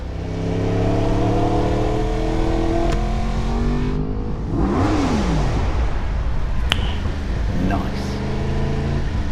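A 2024 Yamaha YZF-R1 motorcycle engine revs repeatedly nearby, rising and falling in pitch in sweeping bursts, with someone talking over it.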